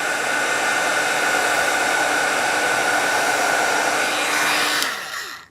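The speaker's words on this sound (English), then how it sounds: "Just because I don't want this powder to move around, I'm going to go ahead and heat set those as well." A heat tool blasts a steady, loud, hissing airflow while heat-setting embossing powder during stamp and stencil crafting, running continuously for several seconds alone before cutting off with a click and a falling whine.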